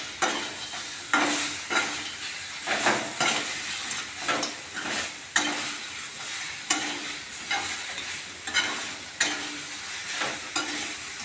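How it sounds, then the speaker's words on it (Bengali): A vegetable curry with drumsticks, aubergine, green banana, potato, carrot, radish, mung dal dumplings and tomato fries in a pan while being stirred, repeated rhythmic scrapes and clatters over a continuous sizzle, close and steady. "বড়ি দিলাম, টমেটো দিলাম, সব দিলাম, দিয়ে আমি এটা নাড়তে থাকছি।"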